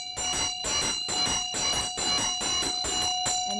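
A ritual bell rings steadily through a Buddhist hooking-of-abundance puja, ringing out in a rapid, even run of bright metallic strokes, loud and close, with no voices.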